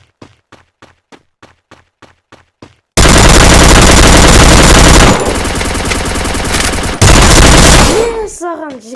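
Rapid gunfire in the mobile shooter Free Fire: a run of short, evenly spaced shots, then a loud dense burst of sustained automatic fire that shifts in tone and cuts off near the end.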